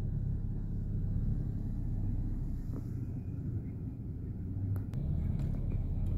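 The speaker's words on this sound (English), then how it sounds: "here's another Warwick Parks and Rec DPW truck just cruising around Oakland Beach" A Warwick Parks and Rec DPW truck cruising the streets around Oakland Beach, heard as a steady low engine rumble from inside or nearby, with a few faint clicks and no talking.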